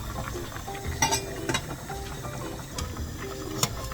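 A spoon scrapes and stirs around a pot of thick porridge, with soft repeated clinks and a gentle simmering bubble beneath.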